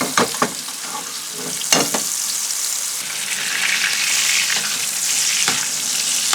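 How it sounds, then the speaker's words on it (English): Steaks sizzle and fry in a pan of melted butter with garlic while being basted, a loud continuous crackling hiss broken by sharp spoon clatters and spattering bursts, no voices. "Now we're going to add a lot of butter."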